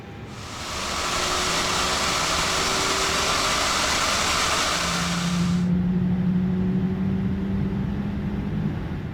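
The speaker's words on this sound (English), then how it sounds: "Now we start our engines, starting with engine 2." Engine 2 of an Airbus A321neo spools up in a flight simulator game with a steady broadband roar and a low rising hum that settles, then the rushing noise cuts out, leaving a lower whine.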